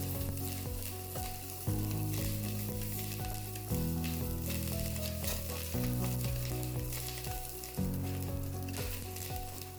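Dry red chillies sizzle steadily in hot oil with curry leaves as a tempering for chutney pudi, a continuous close frying hiss broken every couple of seconds by stirring scrapes.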